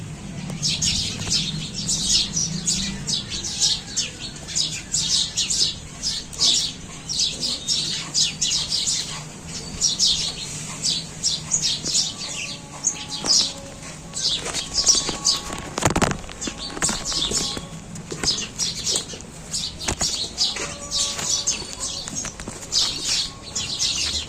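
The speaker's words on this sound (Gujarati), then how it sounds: "મસ્ત મજાના ચકલા બોલે છે બહાર." Small birds, sparrows by name, chirp and tweet outdoors in the evening in a steady busy chorus of overlapping calls, with some fluttering and a few brief background sounds.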